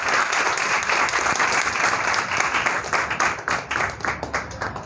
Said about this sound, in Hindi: सभी बच्चे तालियों से सर का स्वागत करेंगे।